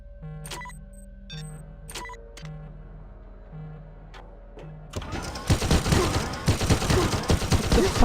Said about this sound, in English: What the fuck is shooting me?